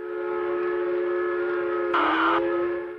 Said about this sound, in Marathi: आता पुन्हा या इंजिनानं दिशा बदलली, ते परत उजवीकडून डावीकडे धावतंय